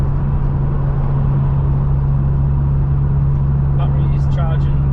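Cabin drone of a modified Toyota MR2 Turbo SW20 with a fibreglass Ferrari replica body kit while driving, a loud steady engine hum with a strong low tone, briefly joined by a higher whistling near the end.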